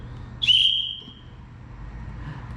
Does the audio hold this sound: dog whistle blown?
yes